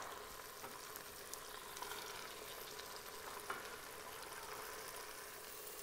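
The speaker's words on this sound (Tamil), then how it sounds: "கொத்தமல்லி புதினா வந்து நல்லா வதங்கி வந்துட்டுருக்கு" Coriander and mint sauté in an Instant Pot for mutton biryani, a faint, even frying hiss that runs steadily without breaks and with no voices.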